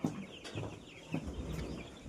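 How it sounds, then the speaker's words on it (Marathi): Small chicken chicks, 20 to 25 days old, on a village poultry farm, giving soft repeated clucks and cheeps at moderate distance over a steady background murmur. "ही छोटी छोटी कोंबडीची पिल्ले आहेत"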